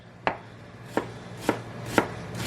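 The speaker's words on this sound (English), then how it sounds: "I have to small dice 2 medium onions" Knife strokes dicing two medium onions on a cutting board, five sharp chops spaced evenly about half a second apart, close and clear with no voices.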